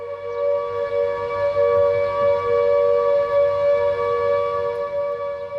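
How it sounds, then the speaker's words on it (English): An air raid all-clear siren holding a steady, high, unwavering pitch, loud and continuous throughout with no rise or fall. "When the all-clear siren sounded,"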